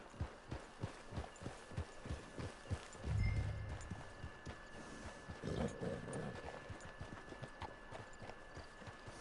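Horse hooves clip-clop steadily at a walking pace through a video game set out on the open range, quiet and fairly close, with a low rumble partway through.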